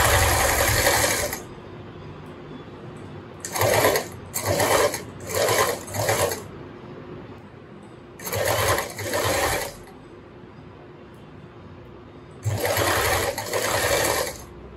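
A sewing machine runs in short repeated bursts as it stitches along a raw fabric edge while finishing a continuous bias strip, loud and close, with quiet gaps between the runs.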